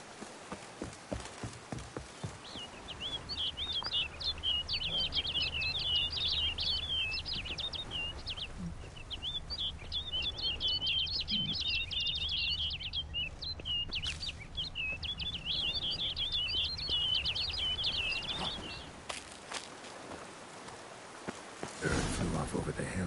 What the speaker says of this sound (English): Bird flew off over the hill.